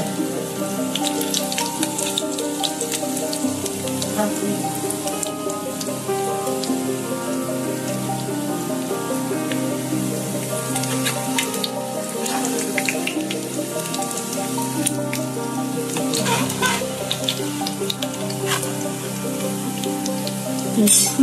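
Taro-leaf gram-flour fritters frying in oil give off a loud, continuous rain-like crackle, with music playing behind it.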